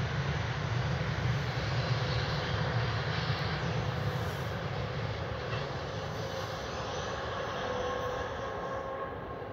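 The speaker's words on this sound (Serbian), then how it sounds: "Cisterne, teretni voz." A freight train of tank cars passes at a distance, heading toward a tunnel: a steady, faint, even roar that holds for the whole stretch with no voices.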